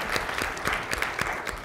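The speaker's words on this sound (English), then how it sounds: "Everyone give her a round of applause sitting right there." At a university Black History Month forum, an audience gives a short burst of applause for an associate dean, the claps fairly faint and rhythmic, lasting under two seconds.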